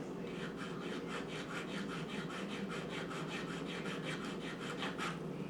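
A manicure file rubs back and forth against a soft plastic N scale model building in quick, even strokes, a faint close scratching rasp with no talk.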